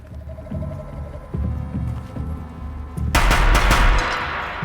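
Gunfire rings out during Horizon Zero Dawn gameplay: low thumping and humming at first, then a loud, close burst of shots near the end with no talking.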